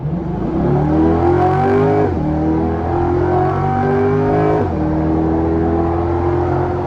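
C8 Corvette Z06 engine accelerating at about 50 mph with an electronic throttle controller fitted, rising whine and rumble through two upward sweeps, a brief drop between them, loud and steady from inside the car.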